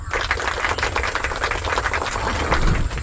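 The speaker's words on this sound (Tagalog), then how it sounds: "Naririnig ko po yung makina. Buhay pa." Small fishing boat engine running steadily at sea during an airgun fishing trip, a continuous low mechanical rumble with a rapid ticking clatter, fairly close and loud with no voices.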